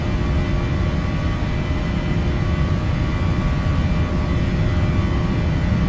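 Airliner jet engines at takeoff thrust in a flight simulator, a loud steady roar with a constant tonal whine, continuous and close, no talk.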